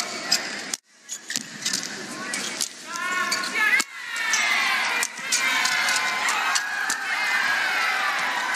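Crowd at a badminton match cheering and applauding, a broad sustained roar building from brief gaps into continuous noise with a few louder surges, under commentary.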